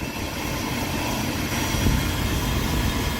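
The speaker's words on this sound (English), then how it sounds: "We've had the spindle running for exactly 10 minutes now" A CNC PM25 mill spindle on oil-lubricated bearings runs steadily, a continuous whirring hum with broad mechanical noise, close and even throughout with no talking.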